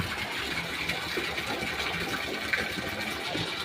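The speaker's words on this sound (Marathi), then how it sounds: "आमचा बोर एवढी धार मारतो" Water gushes steadily from a borewell at close range, a dense broadband hiss with no voices over it.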